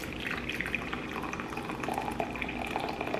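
Hot water being poured into a large measuring cup, a steady splashing liquid stream with bubbling and dripping texture, close and continuous without talk.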